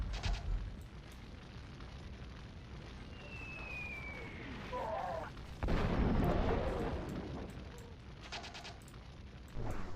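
Battle gunfire and artillery in Warhammer: Dark Omen, heard as scattered booms and crackling shots over a low rumbling background, with a whistling projectile before a heavier blast near the middle.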